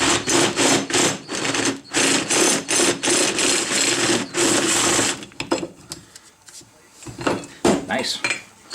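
A step drill deburring holes in a steel disc brake bracket: a loud, close, rhythmic metallic grinding and chattering in repeated bursts, then lighter scraping and tapping as the drilling stops.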